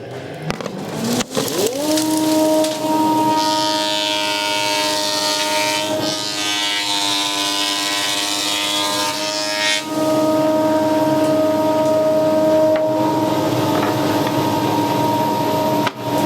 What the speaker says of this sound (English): So I'm going to set the thickness planer to 18 millimeters for my first run.